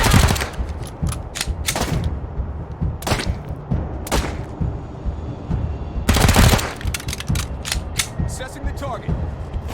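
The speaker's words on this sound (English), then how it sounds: "Taking the shot." Gunfire in the turn-based game Wasteland 3, several sharp separate shots and bursts spaced across the stretch, with mechanical clicking and creaking between them and faint game voices underneath.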